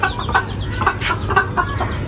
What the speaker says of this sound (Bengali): মুরগিকে মাঝে মধ্যে ছাড়তে হয় বাইরে ঘোরার জন্য